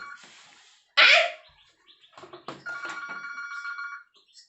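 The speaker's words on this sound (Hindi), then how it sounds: "फोन आ गया है।" A telephone rings in a comedy scene, with a sudden loud burst followed by a sustained electronic ringing tone over faint background noise.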